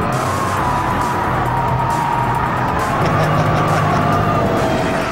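A Ford Shelby GT500 sliding through corners with oversteer, its engine droning steadily and loud throughout, with faint tyre noise riding over the continuous run.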